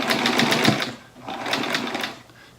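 Sewing machine stitching quilt pieces along a seam, a close, steady rapid whir of needle strokes in two bursts separated by a brief pause.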